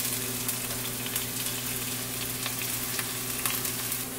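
Onion and tomato frying in a pan with turmeric and cumin to come, giving a steady, close sizzle and crackle with occasional brief pops and no talking.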